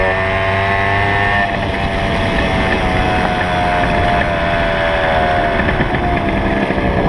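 A Yamaha PW80 dirt bike engine fitted with an upgraded carburetor revs hard and rises in pitch, a loud, close, buzzing two-stroke whine that holds for several seconds without talk.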